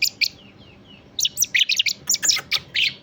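Tame young blackbird chicks chirp in quick, bright bursts, starting with a few sparse calls and then a busy run of close, loud tweets and squawks with no talk.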